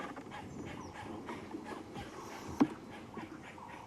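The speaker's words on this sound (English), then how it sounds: "That is the call of the most beautiful bird here. It is a lilac-breasted roller." A lilac-breasted roller calls on an evening safari drive, giving faint, harsh, scattered squawks over quiet bush ambience, with one sharper cry standing out.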